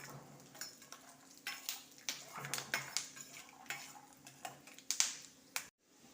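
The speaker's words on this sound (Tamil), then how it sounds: "இன்னொரு அடுப்பில் கடலையை வறுத்துக்குவோம்." Peanuts being dry-roasted and stirred in a metal pan on a stove, with repeated scraping and clinking of a utensil against the pan in an irregular rhythm, close and fairly quiet, cutting off abruptly near the end.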